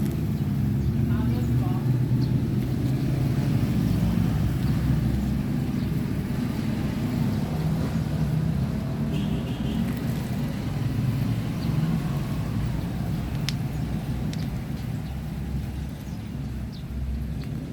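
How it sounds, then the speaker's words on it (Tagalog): A steady roadside rumble of passing traffic on a provincial road fills the whole stretch, engines droning continuously without clear breaks. "provincial road kasi tong sa amin kaya hindi maiwasang ano ba maingay mayat maya may dumadaan na sasakyan"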